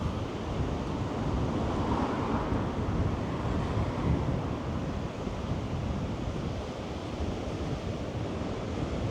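Strong wind buffets along the seafront at Swanage beach, a dense continuous roar with crashing surf blended underneath, steady and loud throughout without speech.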